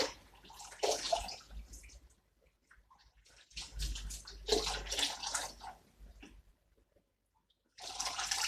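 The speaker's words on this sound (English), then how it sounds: "I'm going to now rinse it off my strainer straight away." Hot water runs over palm nut in a strainer while making Delta-style banga soup, coming in splashing, rushing bursts with quiet gaps between them, fairly soft and close.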